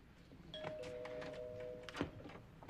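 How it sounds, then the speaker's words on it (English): A doorbell rings indoors in a sitcom scene, a sustained two-tone chime starting a moment in and ending with a sharp knock-like hit, heard over faint room noise. "why does it take 3 rings of the doorbell for you to answer?"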